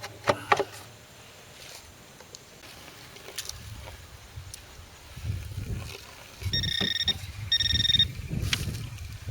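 A Vevor planer's metal detector gives two short, steady electronic beeps in a workshop, each lasting under a second, amid rustling and handling noise.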